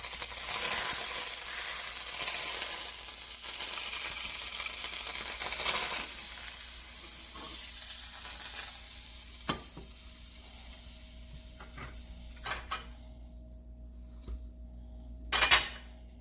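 Grilled cheese sandwich frying in butter in a pan, a steady close sizzle with occasional utensil clinks and a louder scrape near the end.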